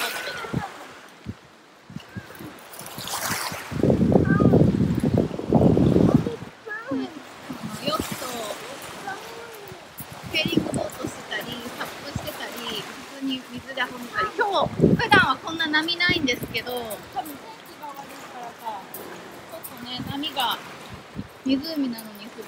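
Waves on Lake Ontario wash against the rocky shore at Woodbine Beach, Toronto, surging loudly at one point and otherwise running beneath a person talking throughout.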